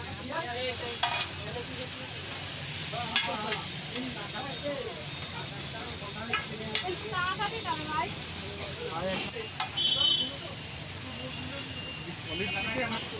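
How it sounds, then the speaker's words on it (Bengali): Masala frying and sizzling in a pan at a street food stall making chicken chap and butter naan, a steady crackling hiss with stirring scrapes, heard under ongoing talk and background traffic. "এটাকে মশলাটাকে ভালো করে ভাজা হচ্ছে"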